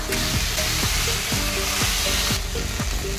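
Onion and tomato sizzle loudly in hot oil with dried shrimps, a dense continuous frying hiss broken by regular scraping strokes of a spatula stirring the pan, close up.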